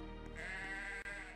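A single drawn-out goat bleat from a video game, loud and close, wavering slightly over about a second with a brief dropout near the end.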